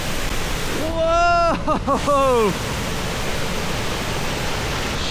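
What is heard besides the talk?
Cauldron Snout waterfall roaring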